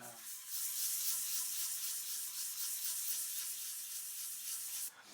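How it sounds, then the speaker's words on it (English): Hand sanding a guitar body's clear coat with 3M 216U P400 open coat sandpaper wrapped around a pink eraser, a steady close rubbing hiss in even strokes, with no talking. "the sandpaper that I'm using to do this is 3M's 216U open coat free cut sandpaper, and I'm using right now I'm using a P400 wrapped around a pink eraser"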